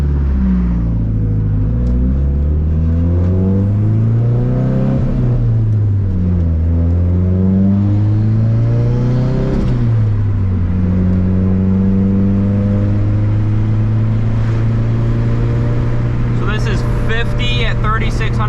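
A race car engine runs during piston ring break-in, loud and close, its pitch repeatedly swelling and dropping with the throttle before holding a steady drone, with a brief higher whine near the end.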